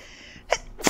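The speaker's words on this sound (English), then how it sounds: "Oh, I might have to sneeze." A person sneezes once, a sharp loud burst preceded by a brief intake of breath, close to the microphone.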